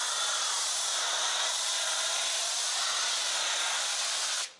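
A COMET Static 1700 pressure washer sprays foam in a steady, loud broadband hiss that holds evenly for several seconds before cutting off abruptly at the end.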